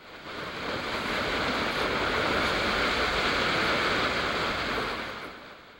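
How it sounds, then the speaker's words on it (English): A waterfall in Yosemite National Park crashes onto the rocks below, a dense, continuous roar heard up close from a hiking trail, rising out of quiet, holding steady and loud, then easing off at the end. "the sound of the water crashing to the rocks below rises to a deafening crescendo"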